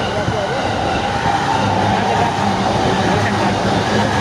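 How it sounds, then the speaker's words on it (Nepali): A train pulling into a station in Japan on a rainy day, a loud continuous rumble of rolling wheels and motor hum that stays steady throughout, with voices faint beneath it. "ट्रेन आइसकेको छ।"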